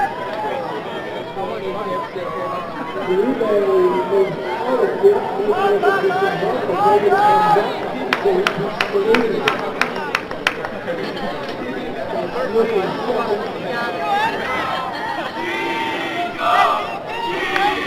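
Crowd noise at a track race, steady chatter and shouts of spectators carrying on throughout, with a brief burst of sharper clattering in the middle, moderately loud and continuous.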